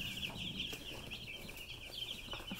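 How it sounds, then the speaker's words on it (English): A brooder holding 25 chicks, including black Australorps, gives off a faint, continuous chorus of high peeping, close but quiet, with light rustling underneath. "25 chicks in our brooder right now"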